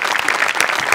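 Audience applause at a Marathi stage comedy show, a brief, dense burst of clapping from a crowd, loud and close, with no talking.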